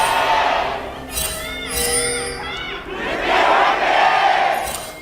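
A crowd in the convention center at Sejong University roars and cheers at the 2018 League of Legends KeSPA Cup finals between Gen.G and Griffin, with swelling waves of shouting and whoops and no clear talk.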